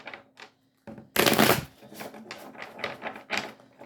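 Tarot cards are shuffled by hand: a sharp riffling burst, then a run of quicker, softer card flicks and taps. The sound is close and quiet, with no talking.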